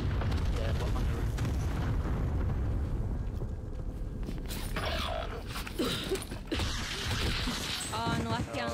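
Airstrike explosions in the video game Warzone Rebirth, heavy rumbling booms and crackling debris that fill the mix continuously, with players talking over them.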